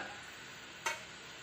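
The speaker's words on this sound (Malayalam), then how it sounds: "തിരിച്ചും മറിച്ചും ഇട്ട് ബ്രൗൺ കളർ ആവുന്നത് വരെ ഫ്രൈ ചെയ്തെടുക്കുക" Ripe plantain snack pieces fry in oil in a pan, a steady broadband sizzle with a single brief scrape or clink of a spoon turning them partway through.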